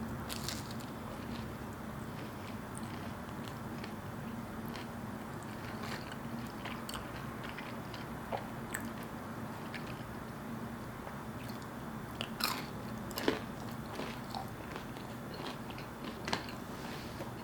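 Faint crunching bites and chewing of chips with cheesy onion dip, soft irregular crunches over a low steady background, close to the microphone, no voice.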